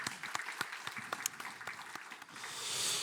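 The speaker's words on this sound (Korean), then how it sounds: "우리 하나님께 영광의 박수 한번 올려드리도록 하겠습니다" A church congregation at a Korean thanksgiving worship service claps in unison, sharp overlapping hand claps in a steady burst that blurs into a dense wash of applause at the end.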